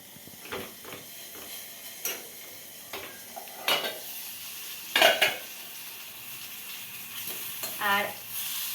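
Food cooks in a pot in a home kitchen, with soft sizzling under scattered clinks and scrapes of utensils against cookware, sounding close and fairly quiet.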